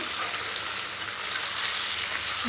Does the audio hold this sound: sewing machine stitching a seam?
no